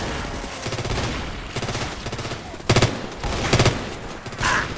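Rapid automatic gunfire in the zombie shooter Left 4 Dead 2 comes in loud, dense bursts, with several sharp volleys standing out over continuous shooting.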